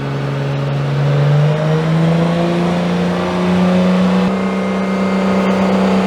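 A car doing a burnout with a single spinning wheel roars at high, rising and falling revs, loud and close, with a steady whine from the spinning tyre.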